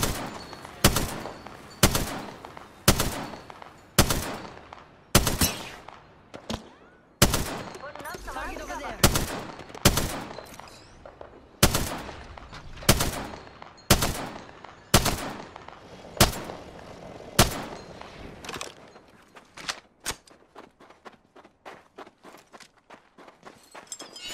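Heavy gunfire in a battle-royale video game: loud, sharp shots fired in a steady repeating rhythm, some in rapid bursts, trailing off into faster, fainter shots near the end.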